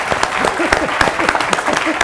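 Audience applause at a university lecture, with scattered clapping and a murmur of voices, brief and fairly steady throughout.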